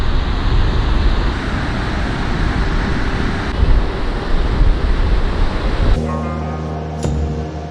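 Surf rolls and breaks steadily at Muriwai beach, a broad roar with wind buffeting the microphone, then the sound changes sharply near the end.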